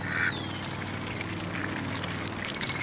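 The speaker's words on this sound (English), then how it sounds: "I got ducks sneaking up behind me here." Ducks by a creek: one sharp quack sounds early, then softer calls follow over a steady outdoor background hiss.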